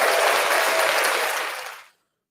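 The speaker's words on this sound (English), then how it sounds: "Everybody give a round of applause for Mr." Loud, dense applause for Christian McCaffrey, a bright continuous roar of clapping that cuts off abruptly after about two seconds into silence.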